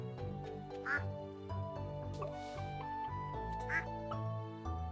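Ducks quack in the farming game Stardew Valley on the Meadowlands Farm, a few short nasal calls scattered over the clip, close and fairly quiet under continuous game music.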